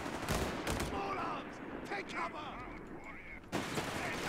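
Bursts of machine gun fire from a World War II strategy game crackle in short volleys under an overlapping commentator's voice, with sharper shots at the start and again near the end.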